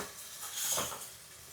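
Tomatoes cook down in a pan for an Andhra-style fish curry, giving a short, soft sizzle that swells briefly and then fades, heard close and alone.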